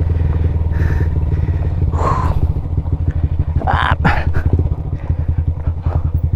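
A motorcycle engine runs loud and steady along a steep, narrow stair-like route in Batangas, with a continuous throbbing drone and brief revs and clatter.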